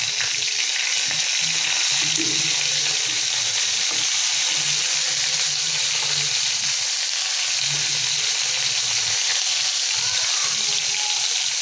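Mint and coriander leaves fry in a pan for mint chutney, giving a steady, close hiss and crackle of sizzling that runs unbroken throughout, with faint stirring beneath and no voices.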